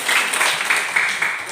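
A classroom of students claps together in a brief, dense burst of applause that stays steady and fairly loud throughout.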